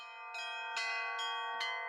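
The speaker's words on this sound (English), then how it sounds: "Today, everyone can listen to and compare the sound of the new and old bells." A Russian church bell is struck four times in steady rhythm, each clang ringing into a long, shimmering sustained tone that overlaps the next strike.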